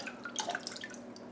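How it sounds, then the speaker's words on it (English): Water draining and dripping from a lifted tray of broccoli and red cabbage microgreens: faint, close trickle with a few soft droplet splashes over a second or so. "I'm going to lift it up just like this, and I'm going to let it drain"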